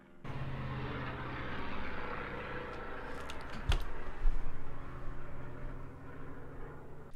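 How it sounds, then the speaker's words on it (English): Airplane flying overhead in a PUBG-style battle royale game lobby, a continuous engine roar at steady volume across the whole stretch, briefly swelling with a sharp click midway, no speech. "We got a parachute that looks really, really clean, and then we have a plane flying in the back."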